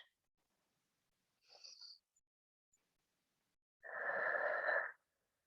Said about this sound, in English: Take 3 breaths in and out.